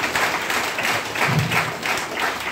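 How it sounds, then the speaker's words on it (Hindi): An audience gathered at a family-style gathering bursts into sustained applause, steady dense clapping from many hands filling the room, loud and continuous without talk. "सारे परिवार वालों के लिए ताली बजा दो जोरदार ताली।"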